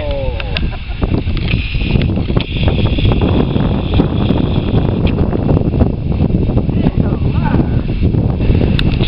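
Strong wind buffeting the microphone outdoors, a loud continuous roar and rumble with gusty surges throughout, with faint voices barely audible beneath it.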